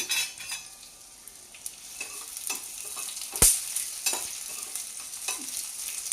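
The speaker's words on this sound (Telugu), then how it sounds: "తర్వాత ఎండుమిర్చి అన్నీ వేసుకోవాలండి" Dried red chillies fry in a pan for Telugu telagapindi curry, crackling and sizzling close by with scattered stirring scrapes and one sharp metallic clink partway through, with no talk.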